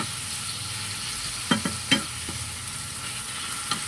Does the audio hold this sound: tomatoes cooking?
yes